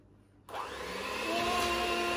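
An electric whisk switches on and runs steadily through banana bread batter, its motor whine starting abruptly and holding at a close, even drone.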